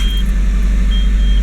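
Car engine idling during an A/C evaporator cleaning job, a steady low rumble with a constant hum, close and alone without talk.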